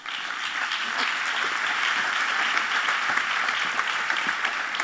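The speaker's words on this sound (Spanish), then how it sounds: "Lucía, un fuerte aplauso, aquí te esperamos en el escenario." Sustained applause from a conference audience at a Movistar event stage, a steady dense wash of clapping that holds evenly throughout with no voices over it.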